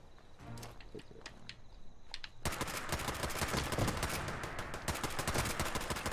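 Small-arms gunfire in the Fallout 76 video game, with a few scattered shots and then dense rapid firing that carries on steadily and close.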